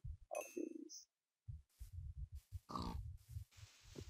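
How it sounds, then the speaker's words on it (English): A pig in the Minecraft video game lets out several short, low grunts and oinks in quick irregular bursts, close and clear, with a few faint clinks between them. "I'm gonna kill this pig"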